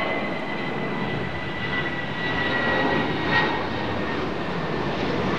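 A US military doomsday plane, a large jet aircraft, flies near London Heathrow heading toward Mildenhall, its steady engine roar filling the air continuously with a slight swell midway, no talking.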